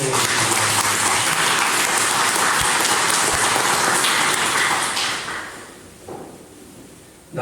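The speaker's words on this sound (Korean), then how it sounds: "힘차게 박수 치면서 우리 환영해 주시기 바랍니다" A church congregation at a Sunday service applauds in welcome of guests, dense sustained clapping from a large crowd that fades out after about five seconds.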